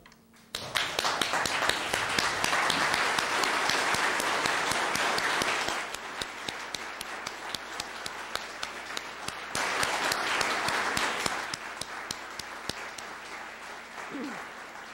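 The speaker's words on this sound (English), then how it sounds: "I'd like you all to stand and applaud him" Sustained applause from an audience standing at a memorial service, loud and dense crowd clapping that dips briefly midway then swells again before easing off near the end.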